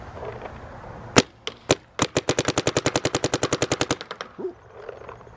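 A Dye M2 MOS AIR paintball marker firing outdoors in freezing weather, with a few spaced single shots that lead into a fast, even burst of roughly twenty sharp pops, followed by a brief quiet tail.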